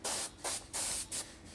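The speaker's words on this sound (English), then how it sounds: "I'll spray this quite wet." Spray gun laying clear coat wet onto a painted surface sanded flat with 1000 grit, in four distinct hissing bursts separated by short pauses, close and loud with no talking.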